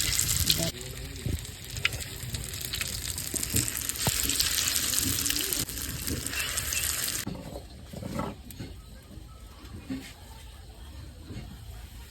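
Lentil fritters (khesari dal bora) drop into hot oil in a village kitchen, giving a loud, steady broadband sizzle for about seven seconds that then drops to a quieter bubbling with scattered clinks.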